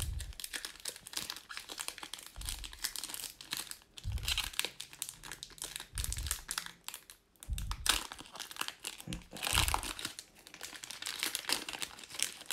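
A trading card booster pack for a French card game is torn and crinkled open at close range, bursts of crisp foil rustling and ripping coming in several waves with soft thumps between.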